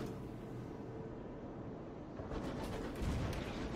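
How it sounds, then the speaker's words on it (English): Guns shooting in the airborne steam-train game Sunless Skies: distant, muffled booms over a low rumbling drone, growing louder and denser toward the end. "I hear guns are shooting."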